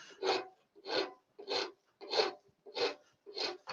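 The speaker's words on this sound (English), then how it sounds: "you can just blend everything in with a file" A hand file is worked across the top of stacked metal gun barrels. Six close, evenly paced rasping strokes, each a short scratchy burst, are separated by brief pauses.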